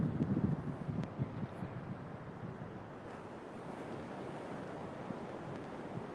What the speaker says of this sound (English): the wind is trying to blow everything away